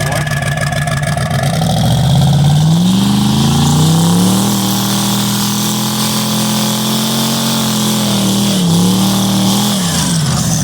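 A big-power Hemi car roars loud and close through a trans brake test, its engine revving with rising and falling pitch while the tires spin, a continuous heavy drone lasting throughout.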